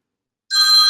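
An incoming call sets a phone ringing: a bright electronic tone starts abruptly after a short silence and holds loud and steady to the end.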